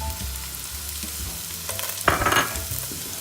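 Onion and garlic hitting extra virgin olive oil in a pan, a steady near sizzle with a louder burst of crackling and stirring about two-thirds of the way through, no voices.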